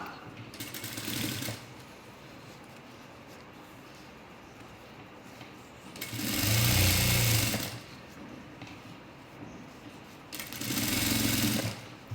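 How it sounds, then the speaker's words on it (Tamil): Sewing machine stitching a straight seam on a puff sleeve, running in three separate loud bursts of whirring stitches with quiet pauses between them. "எடுத்துட்டு இது மேலே ஒரு படிமான தையல் போடலாம்"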